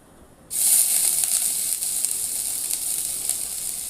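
Ginger paste sizzling in oil tempered with panch phoron and cumin for vegetable chops, a sharp hiss bursting in after a quiet moment and then crackling steadily up close with no talking.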